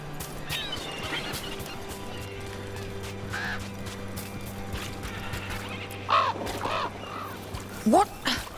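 A crow caws in Dragon Age: The Veilguard, two or three short, harsh calls late in the clip over quiet ambient game sound.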